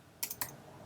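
A few quick computer keyboard keystrokes, three sharp clicks in fast succession, close and clear against a quiet room with no talking.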